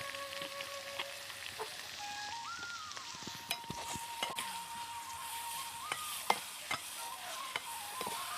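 Dried anchovies fry in hot oil in a pan, a continuous crackling sizzle with scattered pops and occasional stirring scrapes, close and moderately loud.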